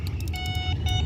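Electronic bite alarm on a fishing setup in Europe, giving several short repeated high-pitched beeps over a low background rumble.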